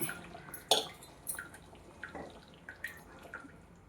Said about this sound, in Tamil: ஒரு 3 தக்காளி இருக்கும், அதை அரைச்சி வச்சுருக்கேன். அது இதோட ஊற்றிடுறேன்.